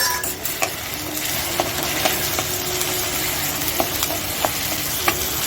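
Two spoonfuls of onion paste fry in a pan while being stirred for a spicy katla fish kalia, giving a steady close sizzle broken by regular scraping clicks of the spoon, with no talking.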